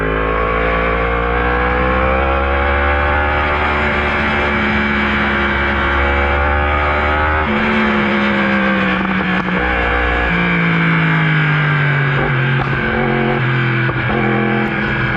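2018 Yamaha R1 with a full Akrapovic Evolution Line exhaust pulling hard through a long first gear, loud and close, its engine note climbing steadily, dropping at a shift and rising again.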